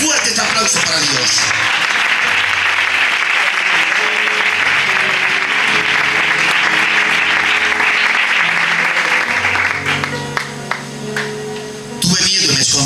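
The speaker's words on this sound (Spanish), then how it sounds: "Dale fuerte este aplauso para Dios." Sustained loud applause from a church congregation during a worship service, a dense wash of clapping that holds steady for about ten seconds before thinning out, with a brief swell again near the end.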